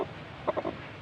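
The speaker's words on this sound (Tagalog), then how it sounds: "Napisa na, may sisiw na, oh." A hen beside newly hatched chicks gives a quick run of three soft, close clucks in the middle of an otherwise quiet moment.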